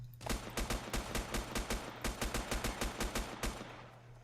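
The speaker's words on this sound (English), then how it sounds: "We'll keep shooting till he's out." Rapid gunfire in a survival video game, with about fifteen evenly spaced sharp shots in quick succession, loud and close, then a pause and a final shot near the end.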